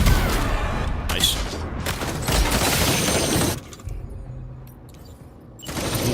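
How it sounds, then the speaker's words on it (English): Heavy bursts of assault rifle fire and impacts erupt in the Death Stranding 2 video game, loud and dense, then drop out briefly before another burst returns. "Ooh, is that like a new assault rifle?"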